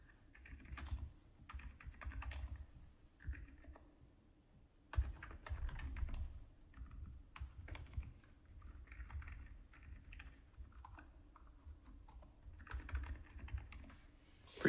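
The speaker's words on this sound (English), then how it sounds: "Almost sounds like a membrane keyboard, but the KN85 here is like isolate mounted inside with some rubber" Quiet, muffled typing on a budget K530 keyboard fitted with Kisnt KN85 switches, soft rubbery thocks in uneven bursts and pauses, close and alone.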